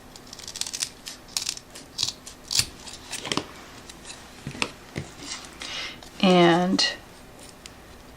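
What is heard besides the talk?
cutting Dollar Tree candle material in half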